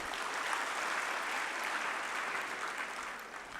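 Audience applause for Prabowo Subianto, Indonesian presidential candidate, at a formal gathering: a steady, dense wash of clapping across the whole stretch, fairly distant, easing slightly at the end.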